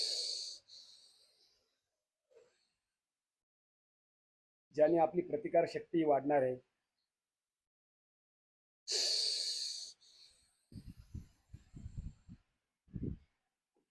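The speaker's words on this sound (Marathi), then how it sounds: "असा भस्त्रिका प्राणायाम करायचा" Forceful bhastrika pranayama breathing comes in sharp, hissing bursts of air at the start and again later. A person speaks between the bursts.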